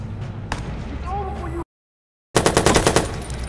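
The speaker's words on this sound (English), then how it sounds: "Okay, now I got him with the head snipe." Rapid sniper-rifle gunfire from the video game Watch Dogs during a street shootout, a single sharp crack followed after a brief gap by a fast string of loud, evenly spaced shots.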